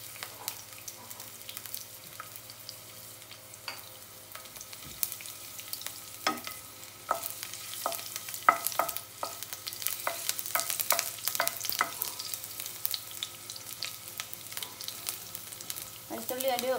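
Garlic frying in hot oil in a pan, a steady soft sizzle with repeated sharp scraping clicks of stirring that grow busier partway through, close and fairly quiet, no voices.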